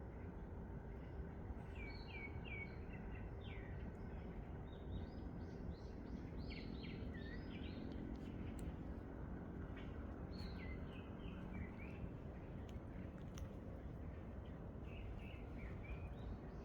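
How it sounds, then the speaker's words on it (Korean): Many small birds chirp and twitter in quick bursts over a steady, loud low rumble, the calls fairly distant and continuing throughout. "잠시 새들이 작은 소리를 감상해 보십시오."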